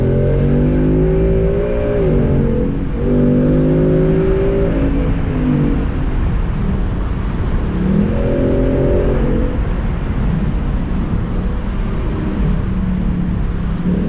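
A Ford Mustang GT convertible's V8 engine revs up hard in a quick acceleration, its loud, deep exhaust roar rising in pitch through the gears, close and continuous.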